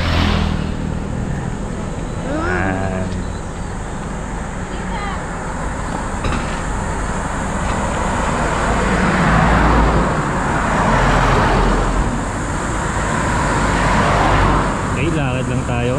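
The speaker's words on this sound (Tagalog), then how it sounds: "Bibilis ng mga sasakyan dito" Steady roadside traffic in Ilocos Sur, with cars and other vehicles speeding past one after another in a continuous loud wash, a few swells as nearer vehicles go by.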